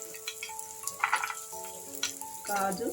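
Dry red chillies, cashews and whole spices like caraway, cinnamon, cloves and star anise frying in oil, a soft crackling sizzle with a few spoon scrapes, under faint background voices and tones.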